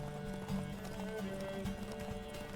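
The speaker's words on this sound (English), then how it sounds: "I do like the horse riding in this game, as long as you're going on actual roads." Horse hooves gallop along a road while riding in the video game The Witcher 3, a quick, steady, rhythmic clip-clop heard close up with no voices over it.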